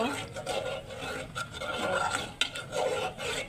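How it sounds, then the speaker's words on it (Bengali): Tea being stirred while it cooks in a pot, a continuous scraping, rubbing swirl with a sizzling edge, close and fairly loud, with voices talking over it. "একটু চা রান্না করব"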